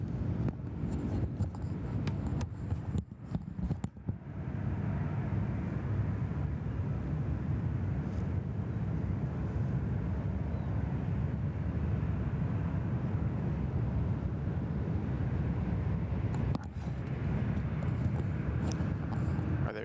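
Airliners departing Sydney Airport early in the morning, a faint, distant, continuous jet roar spread over the whole stretch, with a few brief handling knocks near the start.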